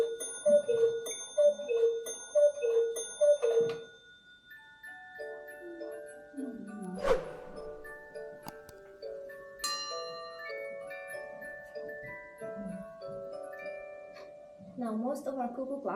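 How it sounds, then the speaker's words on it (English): Bell ringing near a Black Forest cuckoo clock, a woman in traditional dress striking it in a rhythmic series of bright chimes, followed by scattered tones and street ambience as people talk nearby. "ringing the bell"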